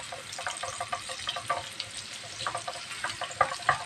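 Onions frying in hot oil with whole spices for basmati butter rice, a steady crackling sizzle broken by close sharp pops and spatters, with no one speaking.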